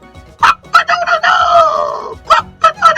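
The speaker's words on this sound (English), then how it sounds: "he went up to the old goat and crowed" A rooster crows in a children's bedtime story, one long drawn-out crow framed by short clucks before and after, loud and close.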